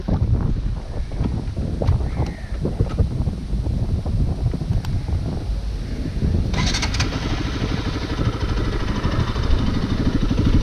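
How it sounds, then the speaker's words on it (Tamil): A Bajaj Pulsar RS200 motorcycle engine fires up and settles into a steady, rumbling exhaust note, loud and close, with some wind buffeting the microphone. "ஸ்டார்ட் பண்ணி பார்ப்போம். அப்படியே எக்ஸாஸ்ட் நோட்டும் கேட்கலாம் guys."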